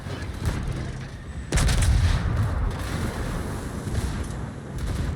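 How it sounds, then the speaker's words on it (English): A warship in a naval video game launches torpedoes, heard as a sudden loud thump and rushing burst over constant engine and sea rumble, with scattered distant gunfire. "Alright, sending some torps out there."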